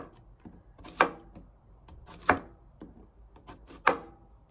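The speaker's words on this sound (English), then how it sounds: "Just gonna slice it up real nice." A knife chops down through a cucumber on a chopping board three times at a slow, even pace, each crisp thud followed by quiet slicing scrapes.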